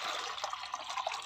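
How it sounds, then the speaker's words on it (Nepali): Water is poured for chickens, giving a steady splashing, trickling stream that runs close by and moderately loud for about a second, with no voices. "फर्स्टमा चाहिँ म पानी लगाइदिँदैछु कुखुरालाई"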